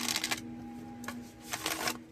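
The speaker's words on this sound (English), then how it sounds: "So let us get to the shuffle." Tarot cards are shuffled in short crisp riffling bursts, three clusters of papery flicks separated by pauses, close and fairly quiet over a faint steady hum.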